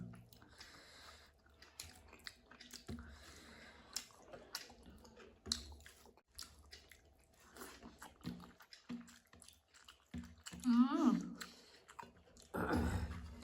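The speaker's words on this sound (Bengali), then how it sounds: "দুটো ছোটো ছোটো মাথা চিবিয়ে দিই।" Crispy fried small fish heads crunch between the teeth, a run of close, wet chewing clicks and squishes at fairly low volume, with pauses and a louder burst near the end.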